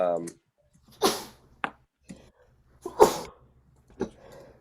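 A sharp sneeze bursts out amid scattered speech, followed by another explosive sneeze-like burst a couple of seconds later, in a quiet room.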